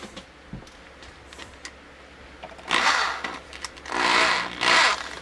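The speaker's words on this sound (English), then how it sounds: "I'm going to put it in my drill." A power drill twisting wire for stained glass panel hangers whirs in two loud bursts after some quiet handling noises, the motor spinning up and down unevenly.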